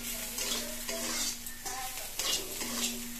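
Onion frying and being stirred in a pan, a crackling sizzle broken by repeated scraping strokes of a spoon, close and moderately quiet with no talking.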